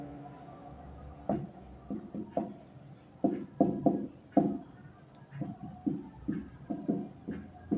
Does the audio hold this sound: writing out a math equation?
yes